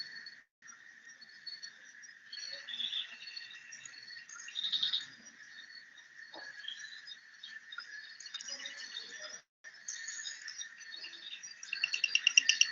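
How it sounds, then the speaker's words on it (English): Reed bush frog calling, a steady high-pitched chirring trill with repeated clicky pulses, continuous and fairly close, growing into a rapid pulsing series at the end, with no talking. "Let us listen to the frog now. It's going to croak."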